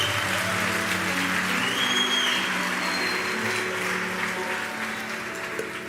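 Sustained applause from a standing church congregation during a worship service, steady and dense throughout with a faint tone or voice lingering underneath.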